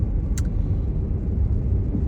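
Inside a car driving to town there is a steady low road rumble and engine drone throughout, with one brief faint click early on.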